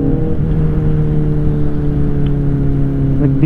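A motorcycle fitted with a Terminioni SO01 slip-on exhaust runs loud and close in a crowded spot, holding a steady, throbbing engine drone with little change in pitch throughout.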